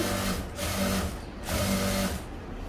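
A sewing machine stitches a fall onto a saree in steady whirring runs, pausing briefly between bursts of stitching, close and fairly loud with no talk.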